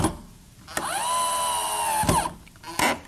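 A power drill drives 1¼-inch sheetrock screws into a wooden easel, whining steadily at close range for over a second between short bursts and clicks.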